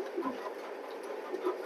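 Racing pigeons in a loft giving soft, low coos, a few faint calls spaced over a quiet background.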